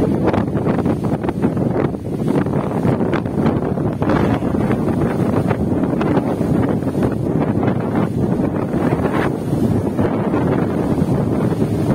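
Strong wind buffets the microphone at Jatiluhur reservoir, a loud, continuous roar with gusting rushes and no pauses.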